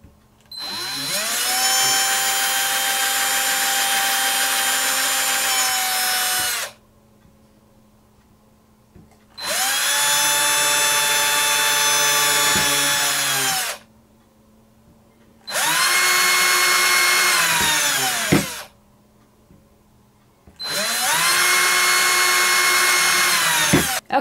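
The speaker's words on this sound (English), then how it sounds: "that allows you to drill an even depth" Four long bursts of a high-pitched power drill boring into wood, each several seconds long, separated by brief near-silent pauses, loud and close.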